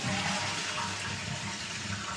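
A bathtub filling from the tap during a plumbing check on a leaking bath, a steady close rush of running water with no pauses.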